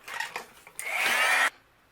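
A heat embossing tool hums steadily for under a second, melting white embossing powder on a shaped Halloween shaker card, after a few soft handling taps. Close and fairly loud, then it cuts off to near silence.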